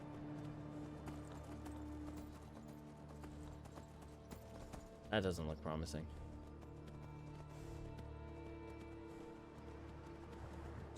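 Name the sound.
horse hooves clip-clopping in Skyrim video game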